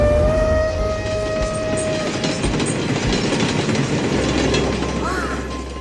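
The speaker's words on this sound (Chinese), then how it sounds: "猪猪，我们坐超级列车，肯定会比你先到的" An animated train rolls along rails with a steady, loud rumble and rhythmic clickety-clack. A long whistle-like tone sounds early on, and the noise continues throughout with no talking.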